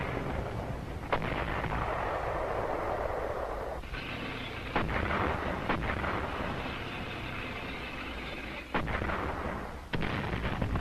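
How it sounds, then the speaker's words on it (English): Artillery and mortar fire from cliffs during the World War II fighting on Guam, heard as a dense, continuous rumble with several sharp booms and blasts breaking through at irregular intervals. "artillery and mortar fire from cliffs"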